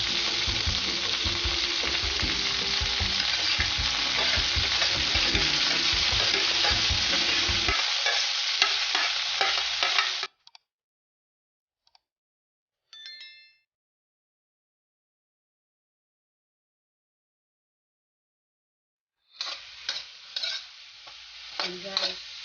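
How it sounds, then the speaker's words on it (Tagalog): Vegetables being sautéed for pancit guisado (bihon) in a pan: a loud, steady sizzle with stirring and scraping for about ten seconds, then silence with a few faint clinks, and the sizzle returns briefly near the end. "Gigisa natin ang ating gulay."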